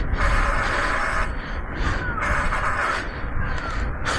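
Crows caw loudly in several harsh bursts at Visakhapatnam zoo, calling back and forth nearby with short pauses between.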